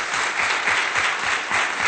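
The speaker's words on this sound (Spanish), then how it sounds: "Tere Acevedo, para quien pido un fuerte aplauso." Audience giving strong applause for a woman from an artisan organization, a dense, even wash of many clapping hands, steady and fairly close for the whole stretch.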